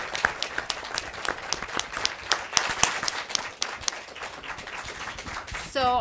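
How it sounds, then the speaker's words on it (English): Audience applause at a panel discussion on philanthropy, a steady crowd of clapping hands with dense overlapping claps throughout, fading near the end as a voice begins to speak. "Just take a round of applause."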